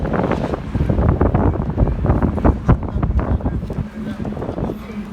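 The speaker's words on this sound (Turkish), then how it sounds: "Rüzgar çok kötü başladı" Strong wind buffets the microphone in heavy, rumbling gusts throughout, with the wash of water in the background.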